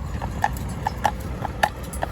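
Horse hooves clop on a hard road surface in an uneven rhythm, several distinct strikes close by over a low background rumble.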